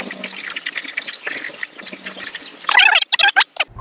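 Water is poured into a honey juice mixture, giving close splashing and trickling with bubbly gurgles that grow busier toward the end and break into short bursts.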